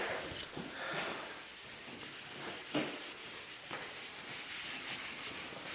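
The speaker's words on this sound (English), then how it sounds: "So need to sand the primer and paint it today." Primer on a car body being sanded by hand, a steady scratchy rubbing hiss with faint repeated strokes, fairly quiet and without talk.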